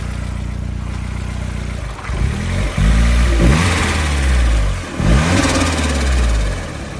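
A Mazda MX-5 fitted with a Kraken turbo kit idles with a low rumble, then takes several sharp throttle blips, each revving up and falling back with a fluttering turbo sound, heard close and loud.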